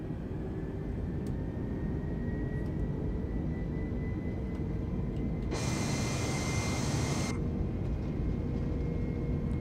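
Simulated A320neo jet engines spool up toward flex takeoff thrust in Microsoft Flight Simulator 2020, a steady broadband roar with a whine, swelling into a brighter hiss for a couple of seconds midway before settling back.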